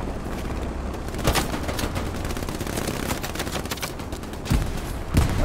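Artillery and gunfire in the WWII shooter Hell Let Loose: a steady bed of distant battle noise with occasional heavier blasts and sharp cracks breaking through, no talk.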